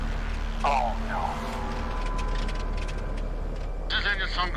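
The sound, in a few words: small aircraft engine in flight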